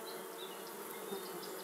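Honeybees buzz inside a hive in a steady, dense hum that holds evenly throughout, close and moderately loud, with no voices.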